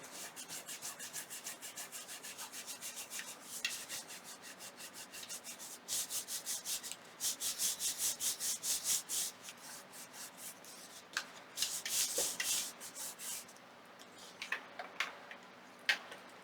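Colour is rubbed onto paper for eco stamping in a junk journal, producing fast rhythmic scratchy strokes in bursts with short pauses, close and fairly quiet.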